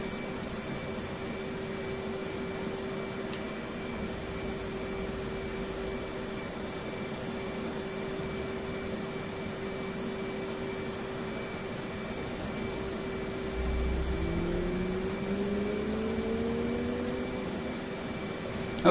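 F/A-18D jet engine spooling up during a simulated cockpit startup, a steady whining turbine hum with tones climbing in pitch near the end over a constant airy roar, no talk.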